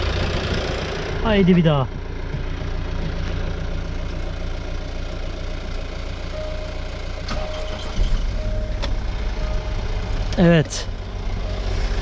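Jaguar XF 3.0D diesel idling in a workshop during an alternator replacement, a steady low engine rumble under brief spoken words, with short squeaky chirps near the start and end.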